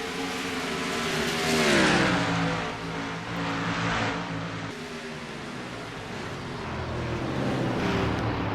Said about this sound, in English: They're pretty much late model cars.